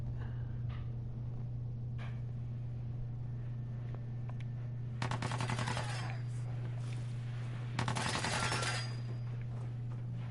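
Companion Curie firing a weapon in Fallout 4, two dense bursts of rapid gunfire at moderate distance over a steady low hum, separated by quieter stretches with scattered faint clicks.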